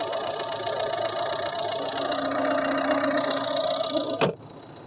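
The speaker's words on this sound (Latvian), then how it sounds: "Pārādīšu jums motora darbību. Motors darbojas vienmērīgi." A Volvo V50 engine idles with a steady, even hum, ending in a sharp click or knock near the close.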